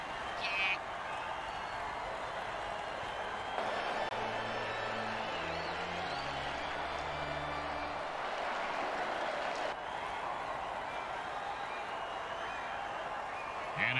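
Crowd applause and cheering at an American football game, a steady wash of clapping and noise lasting throughout, with a commentator talking over it.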